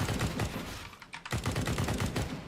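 Rapid bursts of automatic gunfire in CS:GO rattle loudly, pausing briefly before the shooting resumes in quick succession.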